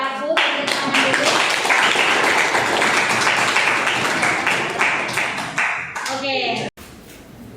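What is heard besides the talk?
applause, clapping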